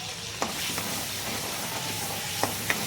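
Ginger-garlic, tomato and onion paste sizzling in hot oil for a rustic village-style chicken curry, a steady close frying hiss with a few faint stirring clicks.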